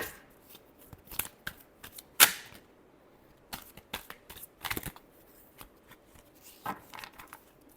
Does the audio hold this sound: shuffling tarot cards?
yes